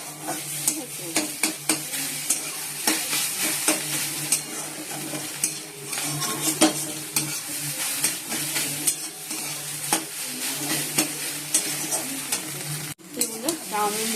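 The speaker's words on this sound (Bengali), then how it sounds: "চাউমিনটা ভেজে নিচ্ছি" Boiled chowmein tossed with fried potato, onion and green chilli sizzles steadily in a pan, with frequent scraping and clinking of the spatula against the metal, close and continuous, no voices.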